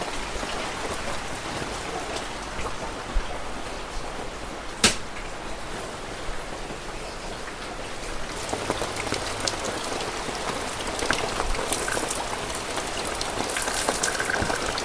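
Steady rain falls around a home with a leaking kitchen, a dense, even hiss of drops on surfaces lasting throughout, with one sharp tap partway through and no voices.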